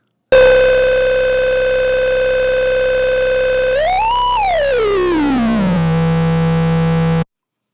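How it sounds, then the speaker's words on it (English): A sustained buzzy synthesizer tone with gritty distortion, its pitch swooping up and then gliding down before settling into a steady drone. "add another mild distortion to the overall output"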